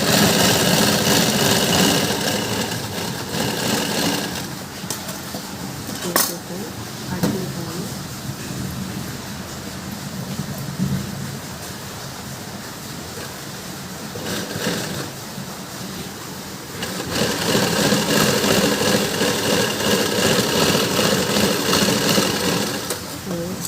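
Sewing machine running steadily while stitching the joint between a blouse lining and sleeve, a continuous mechanical hum and buzz with brief pauses, heard close under someone talking.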